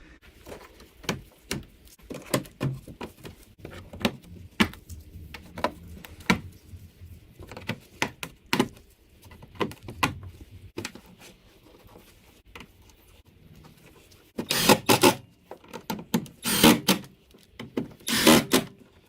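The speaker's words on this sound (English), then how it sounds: "So what I'm gonna do now is just place back all the screws and clips that I removed." Screws and clips go back onto a Ford Fusion headlamp: irregular close plastic clicks, taps and scrapes, then denser bursts of rattling handling near the end.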